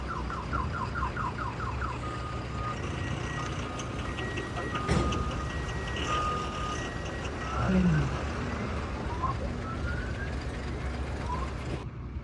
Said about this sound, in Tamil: அடுத்து அண்ணன் வண்டி போகுது என்னோட அண்ணன் வண்டி எட்டி பார்க்க பாருங்க